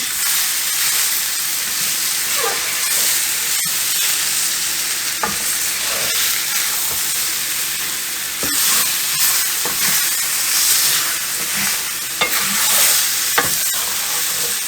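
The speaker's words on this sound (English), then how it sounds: "I'm going to turn up the heat to a medium-high." Beef stew meat stirred and browning in a pan over medium-high heat, with a steady loud sizzle and frying hiss throughout and occasional clinks and scrapes from stirring, no voices.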